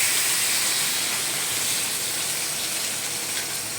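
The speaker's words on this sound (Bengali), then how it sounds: "এবার জল দিয়ে আমি ঢেকে দেবো।" Water poured over frying vegetables and fish in a hot pan, producing a loud, steady broadband hiss and steam that holds almost unchanged throughout.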